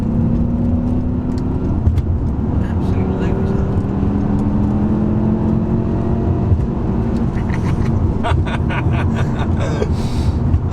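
A BMW M6 with its V10 engine and SMG gearbox pulls hard under acceleration, a steady rising engine drone heard from inside the car with a voice speaking over it throughout.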